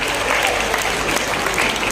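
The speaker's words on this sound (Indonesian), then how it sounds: "Kita beri tepuk tangan" Thick, continuous audience applause at a participant sharing session, loud and full for the whole stretch with faint voices beneath.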